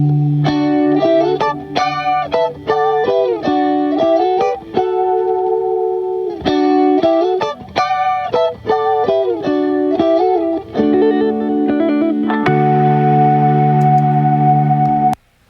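Three clean electric guitars play interlocking melodic lines with a wash of reverb, the parts stacking into a layered arrangement; no voices.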